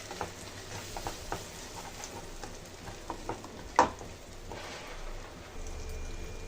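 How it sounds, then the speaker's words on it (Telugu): Radish chutney mixture stirred and cooked in a pan, giving a steady soft sizzle with scattered scraping clicks of a spoon and one sharper knock, close and with no talking. "ఇప్పుడు ఈ చట్నీ మిశ్రమాన్ని కలుపుకొని కొంచెం కుక్ చేసుకుందామండి."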